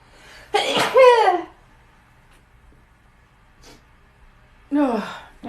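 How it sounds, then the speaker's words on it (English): A loud, close sneeze bursts out, followed after a pause by a sharp breathy vocal exclamation. "I'm going to sneeze."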